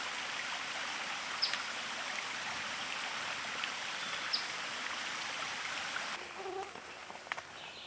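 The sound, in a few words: stream flowing from a hillside spring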